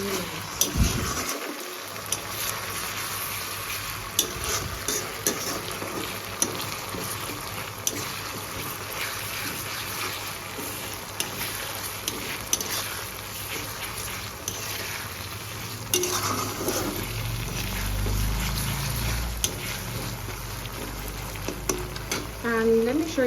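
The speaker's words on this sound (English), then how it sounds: "And now I'm gonna make sure that we stir it really nice." Rui fish curry for a Bengali kalia being stirred in a pan, a steady scraping and gentle sizzle running throughout with a low bubbling rumble toward the end, close and moderately loud with no talk.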